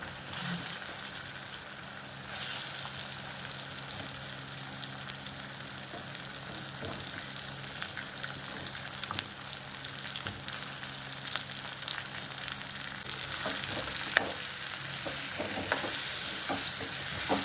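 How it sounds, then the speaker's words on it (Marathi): Capsicum sizzles in a pan with fried tomato and onion, a steady frying hiss broken by scraping and stirring sounds that continue throughout at moderate volume. "छानपैकी टोमॅटो आणि कांदा फ्राय झालेला आहे। त्यामध्ये आपण ह्या शिमला मिरची घालून घेऊयात।"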